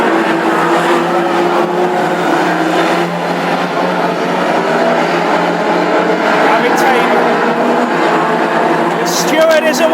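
Classic hot rod race cars roar around an oval track, a loud continuous engine drone with shifting revs that stays dense throughout, with a commentator talking over the racing.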